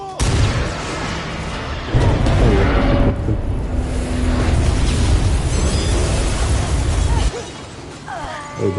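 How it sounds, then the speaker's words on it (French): A loud, sustained rumbling blast with crackling debris, an explosion in the video game Until Dawn, continuing for several seconds before fading and then swelling again near the end. "quelle explosion"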